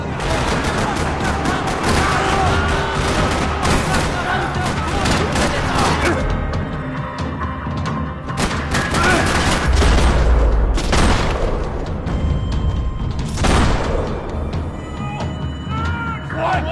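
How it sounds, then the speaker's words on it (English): Dense gunfire rattles across a parking lot in the Max Payne 3 video game: rapid automatic bursts and scattered single shots with booming impacts, loud and nearly continuous throughout. "Another parking lot rattling with gunfire."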